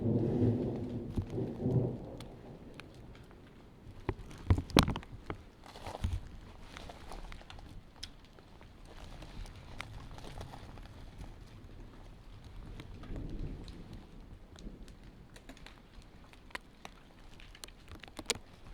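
Hail from a thunderstorm pelts down around a backpacker in the Desolation Wilderness, a dense scattered patter of hits on surfaces with occasional sharper impacts and low rumbling, faint and distant overall.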